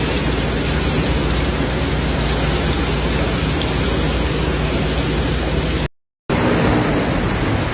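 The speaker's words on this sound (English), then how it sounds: "Heavy rainfall and thunderstorms led to flooding and downed trees in parts of New York City Wednesday night." Heavy rain pours down during a thunderstorm in New York City, a dense, loud, unbroken hiss of downpour that cuts out briefly near the end before resuming.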